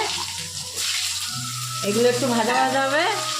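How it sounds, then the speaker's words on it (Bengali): Potato and eggplant pieces frying in hot oil give a steady, close sizzle that runs throughout, with a voice talking over it. "এই আলু আর বেগুনটা একটু ভেজে নেব"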